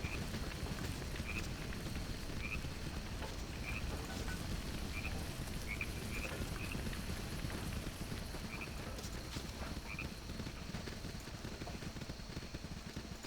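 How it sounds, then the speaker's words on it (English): Frogs croak in quiet repeated chirps beside a river in a video game, set against a soft, constant ambient wash of flowing water. "It's very quiet, just the river and the crickets and frogs."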